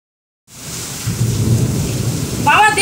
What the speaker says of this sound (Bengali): কালবৈশাখী ঝড়, প্রচুর প্রচুর বৃষ্টি